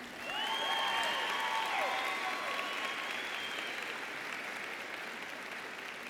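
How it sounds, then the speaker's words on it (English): Commencement ceremony audience applauding the deans, a broad sustained wash of clapping from a large hall with whoops and cheers rising near the start, holding steady throughout. "You may now applaud."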